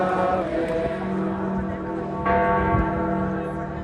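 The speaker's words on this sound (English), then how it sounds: "As church bells tolled in tribute" Church bells toll steadily in tribute near St. Peter's Basilica in Vatican City as crowds mourn the Pope, ringing continuously and fairly loud over a faint crowd murmur.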